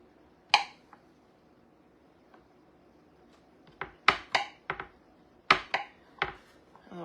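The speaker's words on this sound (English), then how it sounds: "Alright, so we got that butter nice and cubed." A knife cutting butter into cubes on a board for a grits breakfast casserole, a sparse series of crisp taps, first a single chop, then a quicker cluster of near, distinct strikes.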